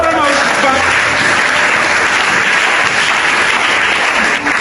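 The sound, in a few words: congregation applauding in church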